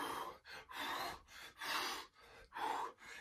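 A person exercising breathes heavily in a steady rhythm, four loud forceful breaths spaced about every three quarters of a second, each a rushing puff that imitates the chugging of a locomotive, close and alone.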